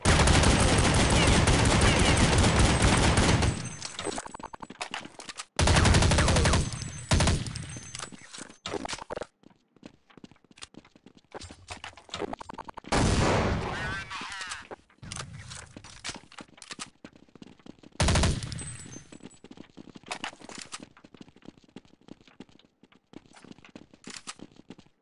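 Bursts of AK Kalashnikov rifle fire in Counter-Strike 1.6, loud rapid volleys at the start, then shorter separate bursts spread across the rest, with footsteps and quieter gaps in between.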